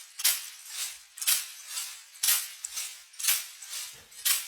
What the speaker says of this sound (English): So all I did was pull over a percussive element that sounds like this.